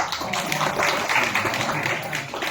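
An audience applauds a religious couple, producing a dense, continuous wash of many hands clapping together for a few seconds, steady and moderately loud.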